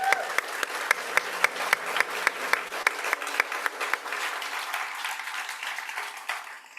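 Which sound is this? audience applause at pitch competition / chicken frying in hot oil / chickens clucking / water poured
audience applause at pitch competition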